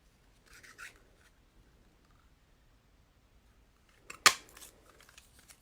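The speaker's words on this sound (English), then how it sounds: "we're going to go ahead and cut this section." Scissors snip through patterned paper for a fall card craft: a faint rasp early on, then one sharp, close cut followed by soft rustling, with no talking.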